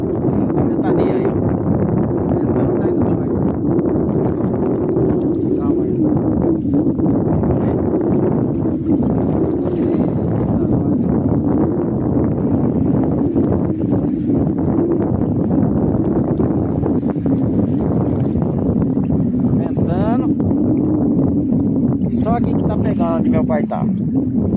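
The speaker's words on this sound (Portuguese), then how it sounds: "Uma ventania aí, ó." Strong wind roars steadily into the microphone at Porto do Militão, a river port, during a fishing outing, a loud continuous buffeting with occasional bumps and knocks; no voices stand out.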